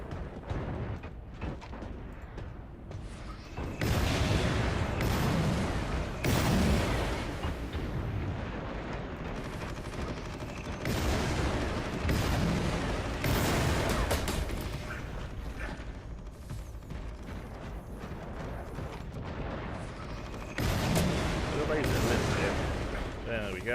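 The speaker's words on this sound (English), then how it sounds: "I'm using this as the big drum grenade launcher. It's like this is my 3-shot grenade launcher." A drum-fed three-shot grenade launcher fires in Warhammer 40,000: Eternal Crusade, heavy booming blasts landing amid clanking mechanisms and battle noise while a voice talks over it.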